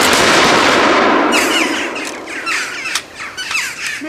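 A volley of gunfire goes off on command as one loud, sharp burst that decays into a rolling echo. Scattered squawks and bird calls follow in the quieter tail.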